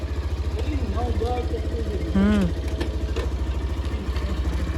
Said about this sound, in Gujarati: બાઈક ગરમ થાય હશે